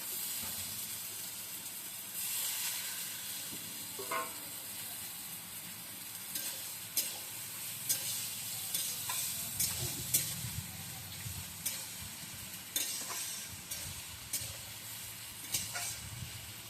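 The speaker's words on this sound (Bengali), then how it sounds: "তেলটা গরম হয়ে গেছে, আগে পেঁয়াজটা দিলাম" Onion frying in hot oil in a pan over a wood-fired stove, a steady soft sizzle with intermittent stirring clicks and scrapes, fairly quiet and close.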